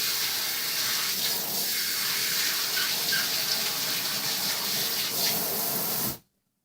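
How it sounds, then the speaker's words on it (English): Tap water runs steadily into a cold brew coffee maker as it is rinsed, a full hissing splash that carries on without a break. It stops abruptly at the end. "let me give this a quick rinse to clean that out"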